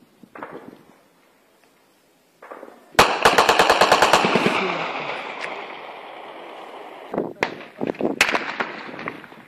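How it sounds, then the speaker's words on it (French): Heavy weapons firing in the city of Kidal: bursts of rapid machine-gun fire crackle in a long rattling volley, followed by scattered louder shots, with brief voices murmuring before the firing starts. "nous entendons dans la ville de Kidal des tirs à l'arme lourde"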